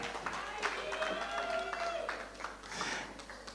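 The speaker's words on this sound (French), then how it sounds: "On applaudit bien fort." Audience applause at a TV awards ceremony as a trophy is accepted, a faint, steady patter of clapping beneath a voice talking over it and some tonal music.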